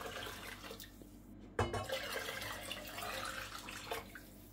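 Two litres of hot water poured into a pot of Turkish red lentil soup, a faint splashing stream with a sharp knock near the start and soft gurgling throughout.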